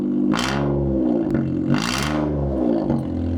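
Close, loud revving of a used car engine, with two strong throttle blips swelling and falling back to a steady rumbling idle in between.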